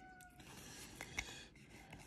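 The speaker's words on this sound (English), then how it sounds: "You hear a meow, and that's the cat trying to get me from" A house cat meows briefly once, faint and somewhat distant, against a quiet room background.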